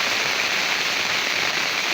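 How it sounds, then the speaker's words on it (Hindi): Light, steady rain pattering down outdoors, a continuous soft hiss of drops on surfaces with no voices, even in level throughout. "ये बरसात लगी हुई है, रिमझिम रिमझिम।"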